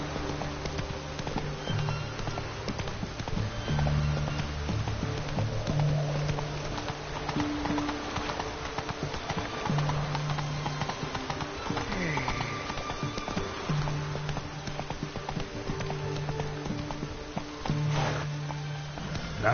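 Roach, a horse in The Witcher 3, galloping in-game with rhythmic clip-clop hoofbeats continuing for the whole stretch, mixed with ambient game sounds and occasional tonal music-like cues, no speech.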